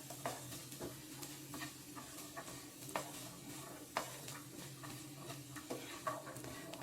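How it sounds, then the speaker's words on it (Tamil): Grated coconut being stirred into peanut sundal in a pan, a soft, quiet scraping and light clatter of a spoon with irregular taps, faint and close. "தேங்காய் போட்டு நல்லா கிளறி விடுங்க."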